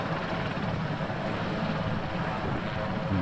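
Sikorsky VH-3D Sea King helicopter operating as Marine One on the South Lawn of the White House, a loud, steady rotor and turbine roar filling the air without letup, close by, with no voices.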